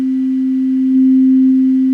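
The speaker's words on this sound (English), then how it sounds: "Now, if we were to bring in the level of another sine wave here, this sine wave is exactly the same pitch as the original one." Two identical-pitch sine waves layered in Ableton Live produce a steady, pure low hum that grows noticeably louder about halfway through as the second wave joins, with no other sounds.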